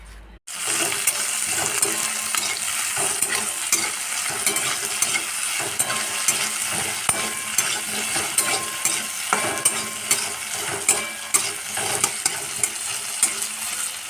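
Bottle gourd peels sprinkled with poppy seeds fry in a pan at home, a dense continuous sizzle with frequent scraping stirs and small clinks, close and loud throughout with no talking.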